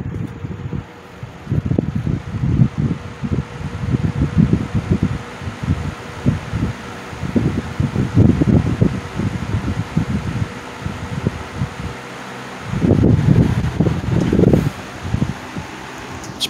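Wizard 6JC3020 box fan set on high, giving a steady close airy whoosh with rumbling buffeting and flutter that swells and fades as the airflow shifts, with no voices.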